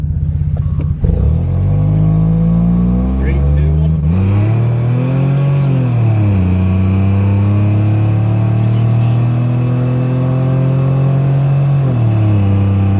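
A V6 Mustang engine set up for nitrous is revved and held around 3,000 RPM, a loud, close, steady drone that rises and dips as the throttle changes.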